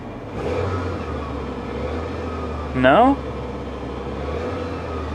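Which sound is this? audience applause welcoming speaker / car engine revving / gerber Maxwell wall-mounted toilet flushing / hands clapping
car engine revving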